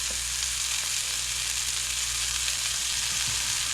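Two beef burger patties sizzling on a griddle as a double smash burger, a steady loud close frying hiss with no talking.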